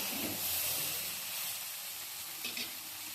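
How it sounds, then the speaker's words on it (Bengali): Vegetables for a spice-roasted shukto frying in a pan, a soft continuous hiss and sizzle close by that fades slightly, with a brief clatter near the end. "এগুলো আমি ভালো করে ভেজে নিয়েছি"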